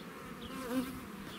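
Buckfast bees buzz faintly and steadily around a hive frame at an apiary, a soft continuous drone with one slightly louder rise in the middle.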